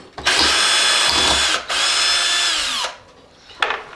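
A power drill drives screws during a model city build, two long close whirring bursts that wind down, followed by a short final buzz.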